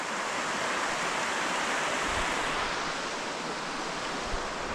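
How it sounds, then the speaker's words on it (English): Starrucca Creek flowing beside a rail trail, a steady broadband rush of moving water that holds even and continuous throughout, with no talking. "Cool little creek."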